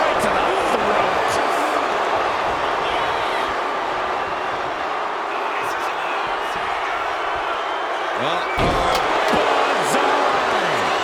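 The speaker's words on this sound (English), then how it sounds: "This crowd is pumping him up." Steady roaring crowd cheering from a wrestling match in the WWE 2K25 video game, a dense continuous wash of noise with sharp impact thuds near the end and a commentator talking over it.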